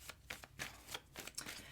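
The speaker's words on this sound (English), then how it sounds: "we're just going to shuffle the cards" Tarot cards being shuffled by hand, a quiet, close series of rapid papery riffles and flicks repeating in quick bursts for under two seconds.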